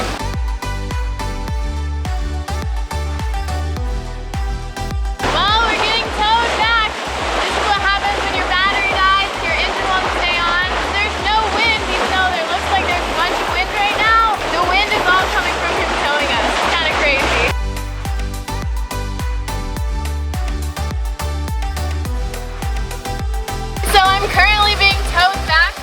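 Water rushes past the hull of a sailboat being towed by another boat, a loud continuous hiss that swells for several seconds mid-way, with people talking throughout and music in the background.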